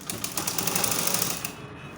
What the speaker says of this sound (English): Let me just sew it straight.